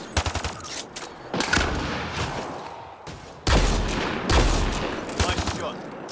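Gunfire in the video game Mass Effect Andromeda comes in bursts of rapid shots, loud and close, with two dense volleys separated by brief lulls. A voice speaks between the bursts.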